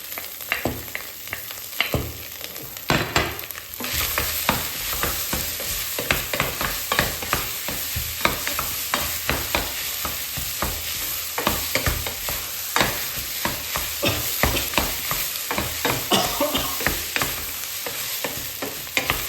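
Garlic, ginger and anchovy sizzle and fry in a pot, a steady close crackle broken by frequent scraping stirs throughout, with no talk.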